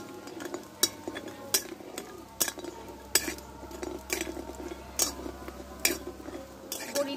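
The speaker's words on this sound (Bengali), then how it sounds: "এখানে কয়েকটা বড়ি আমি তেলে ভেজে নেব।" Lentil dumplings (bori) fry in mustard oil in a wok over a clay stove, a soft steady sizzle under sharp metallic clinks and scrapes of a spatula against the pan, fairly close, with a voice talking faintly at times.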